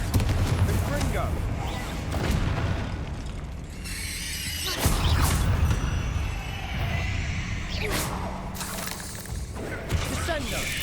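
Repeated blasting-curse explosions from the Confringo spell in Hogwarts Legacy, booming impacts with crackling debris, firing over and over while a voice talks throughout.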